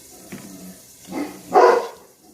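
A dog, growling at a cat, lets out a couple of short, low growling barks close by, the last one louder, with quiet in between.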